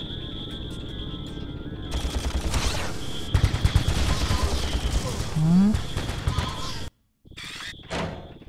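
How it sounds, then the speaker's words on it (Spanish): Rapid bursts of gunfire crackle over a busy, layered soundscape in Ratchet and Clank on PS2, with a brief silent gap near the end before the noise resumes. "Les disparo desde aquí dentro, ¿no?"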